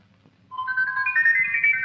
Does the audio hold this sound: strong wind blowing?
no